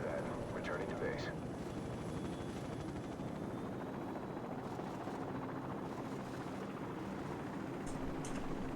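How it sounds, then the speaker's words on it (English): Friendly helicopters lifting off in Call of Duty 4: Modern Warfare, a continuous rotor whir and engine drone throughout, with game sounds and a voice talking over it. "Friendly helicopters are taking off"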